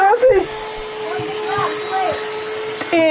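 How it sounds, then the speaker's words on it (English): A vacuum cleaner drones steadily behind someone speaking, its whine holding a constant pitch throughout while his exclaiming voice rises over it at the start and end. "I'm still gonna hear a vacuum behind me."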